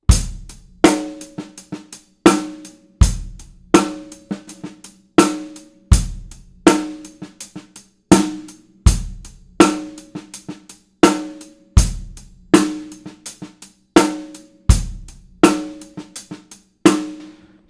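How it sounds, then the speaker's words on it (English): A drum kit plays a steady groove with clear kick and snare hits and soft ghost notes on the 16th notes between beats two and four. It repeats evenly for several bars, close and with no one talking. "now I'm going to apply ghost notes to the"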